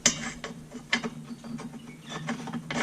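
A hand ratchet clicks in quick bursts while a bolt is tightened during repair of an LG washing machine, several close, crisp pawl-clicking strokes with brief pauses between, no speech.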